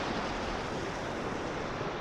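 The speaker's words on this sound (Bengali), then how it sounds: "যেভাবে ঝড় হচ্ছে মনে হয় না আর এখান থেকে নড়তে পারবো।" Strong, steady wind of a Kalbaishakhi (nor'wester) storm roars across the microphone, a dense unbroken rush with no voices, loud and close throughout.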